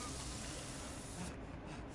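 A spray can hisses in Dead by Daylight, a steady broad hiss held for about two seconds and faint in level, with no talk over it.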